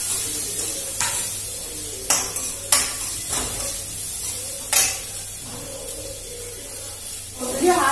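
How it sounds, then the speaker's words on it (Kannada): Tempering spices for a horse gram palya crackling in hot oil, a soft continuous sizzle broken by several sharp spoon scrapes and clinks against the pan, close by over a low steady hum. "ಒಗ್ಗರಣೆ ಹಾಕ್ತಾ ಇದ್ದೀನಿ"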